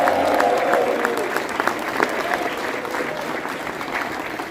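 A crowd at a tribute event cheers and applauds, a dense steady wash of clapping with whoops, loud throughout and continuing without a break.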